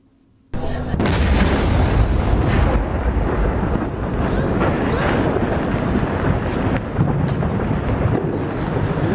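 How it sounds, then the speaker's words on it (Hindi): A huge blast from an Israeli air strike on a village in Lebanon erupts suddenly after a quiet moment and is followed by a long, loud, rolling roar and rumble that slowly settles, with a voice faintly present. "इजरायली एयरफोर्स ने एक धमाके में इसे उड़ा दिया"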